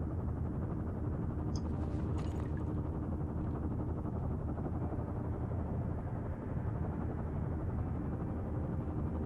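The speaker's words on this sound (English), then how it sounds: "There's the helicopter." A helicopter in the video game Firewatch gives off a low, steady rotor drone, fairly quiet and continuous, with a brief faint higher blip early on.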